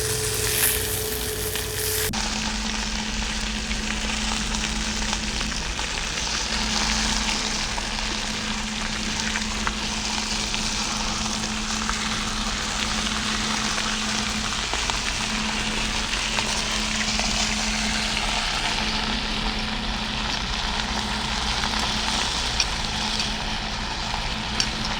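Picanha steak frying in a pan with melting butter and garlic, a loud dense sizzle running continuously, with a low steady hum underneath.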